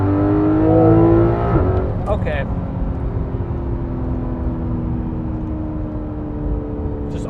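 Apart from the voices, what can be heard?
sports car engine accelerating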